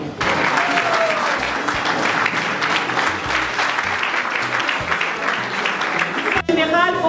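Loud, continuous audience applause at a French public event on decentralization and institutional reform, dense clapping sustained across the whole stretch with crowd voices mixed in.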